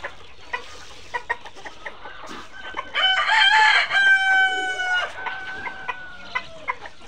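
Chickens cluck in quick, irregular bursts close by as they are fed black soldier fly larvae on a farm, with a rooster crowing loudly in the middle.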